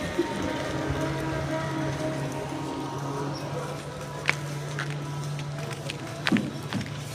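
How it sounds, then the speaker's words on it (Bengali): Light rain falling outdoors in the morning, a soft steady patter under a constant low hum, with a couple of brief nearer taps and rustles standing out. "বৃষ্টি হচ্ছে, একটু একটু বৃষ্টি হচ্ছে।"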